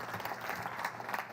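An audience at an annual meeting applauds for a departing board member, a dense, steady wash of many hands clapping at moderate distance throughout.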